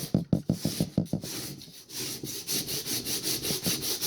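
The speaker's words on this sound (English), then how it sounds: "So I have my 60 grit sandpaper. I'm just going to push down. I'm just going to start sanding with the grain." Coarse 60-grit sandpaper pushed with the grain across a wooden gun stock: quick rhythmic rasping strokes at first, then slower, longer scraping strokes, close and loud.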